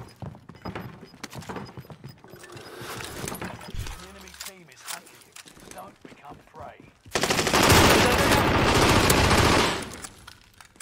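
Gunfire in the video game Warzone Resurgence with an MP40, scattered shots under players talking, then a loud sustained burst of automatic fire lasting a few seconds before tapering off.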